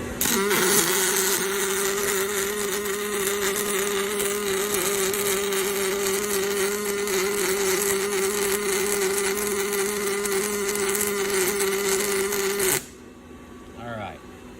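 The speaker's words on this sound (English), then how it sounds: "turn my weld on, back to this one. We're going to go hot again." A Fanuc robot's arc welding torch running hot, giving a steady, close electric buzz that holds for about thirteen seconds before cutting off abruptly, with a voice faintly beneath it.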